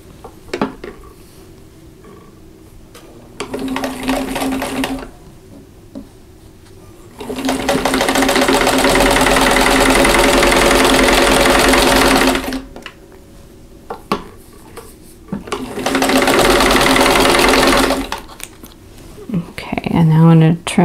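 A sewing machine stitches a quilt block in three bursts, with a short one first, then two longer runs. It sits close, with quiet gaps and light handling noises between the runs.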